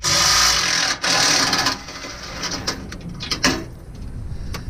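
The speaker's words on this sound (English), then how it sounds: "And I'm just using an impact." Impact wrench loosening the bolts on a Ford F150 EcoBoost truck's stone guard: loud, rapid buzzing rattle in bursts, with a brief break, then quieter clicks and ratchety taps as the bolts come free.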